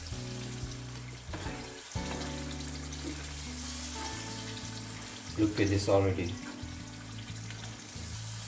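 Chicken with yogurt and black pepper frying hard over a high flame, a steady broad sizzle with bursts of louder spattering and stirring, while someone talks over it.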